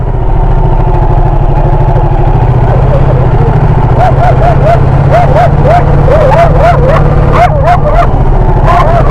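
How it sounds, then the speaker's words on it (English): A guard dog barks repeatedly in quick bursts, sometimes yipping, over a loud, steady engine drone, as if heard from a moving motorbike. "we're about to get attacked by a guard doggy, very likely"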